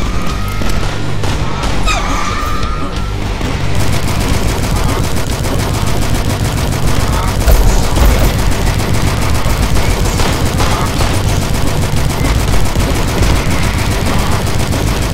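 Dense, loud gunfire from the first-person shooter Dusk, rapid shots blending into continuous chatter with occasional heavier booms, filling the whole stretch without a break.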